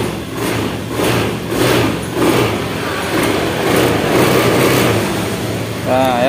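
A fuel-injected motorcycle runs just after being started, its engine throbbing in uneven revving pulses close by while someone talks over it.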